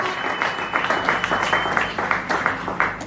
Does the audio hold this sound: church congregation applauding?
yes